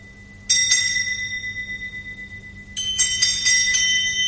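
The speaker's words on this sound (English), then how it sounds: "But soon it rang out loudly, and so did every bell in the house." Household bells in a radio drama ring out clearly in two bright bursts, the second fuller and more layered, with sustained metallic tones and no talking.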